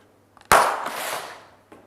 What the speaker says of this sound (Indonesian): Kalau bagian balon yang tidak terlindung selotip ditusuk bagaimana?